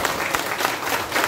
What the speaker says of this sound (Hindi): सबैले एक जोडा ताली बजाउँदै पर्दा अलि मजाले बजाउँछ